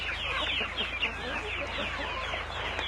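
Young black-fleshed chickens on an integrated livestock farm cluck in a busy, overlapping chorus of short calls, fairly close and continuous, with faint voices in the background.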